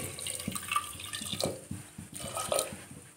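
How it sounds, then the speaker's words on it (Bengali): Water pours and splashes into a cooking pot of potatoes, a close, uneven stream with sharp clinks against the metal and no speech. "দিয়ে এতে আমি পরিমাণ মতো জল দিচ্ছি।"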